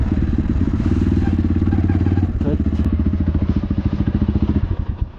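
A dirt bike engine idles loudly and steadily up close, its rapid even chugging firing pulses continuous throughout, with a brief clatter midway while parking at SPN Park in Narayanthan, Nepal.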